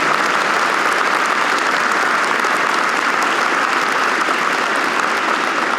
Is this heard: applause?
yes